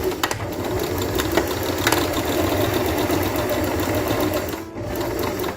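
A sewing machine runs steadily, back stitching through face mask fabric with a close, fast mechanical whirr and a brief pause near the end.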